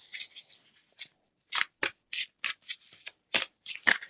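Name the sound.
shuffling tarot cards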